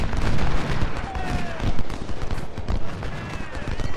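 Rolling musket volleys and artillery fire from a Civil War battle in the strategy game Ultimate General: Civil War at Chickamauga, crackling continuously with dense overlapping shots and booms throughout.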